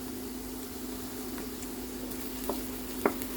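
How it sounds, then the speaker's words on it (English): Onion and garlic frying in a pan give a faint, steady sizzle under a low hum, with a couple of soft scraping stirs near the end and no talk. "Let's fry our onion. Let's fry a little bit. Let's add our garlic."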